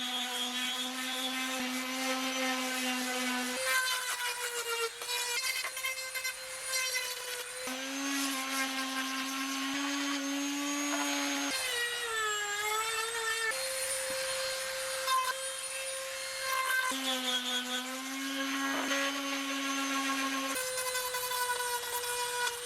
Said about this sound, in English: Just like that, hours worth of sanding in seconds.